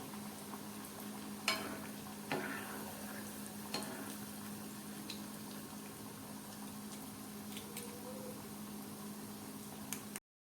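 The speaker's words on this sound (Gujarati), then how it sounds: "ઢેકરાને તળવા નાખ્યા" Green pigeon pea dhekra fritters frying in oil over a medium-low flame, a quiet, steady bubbling sizzle with a few soft clicks of a utensil, heard up close and alone.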